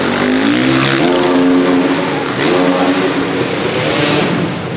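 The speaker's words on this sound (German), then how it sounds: "Im Hintergrund sind schon die Motocrosser auf der Strecke" Loud, continuous engine roar of motocross bikes training on a track at a Masters of Dirt show, pitch rising and falling as they rev and accelerate, with no talking.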